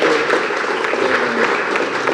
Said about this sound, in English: can we please give a big round of applause to Sister Audrey and our brother here,